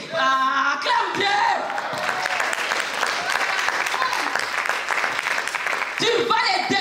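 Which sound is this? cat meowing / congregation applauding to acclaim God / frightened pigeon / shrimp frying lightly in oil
congregation applauding to acclaim God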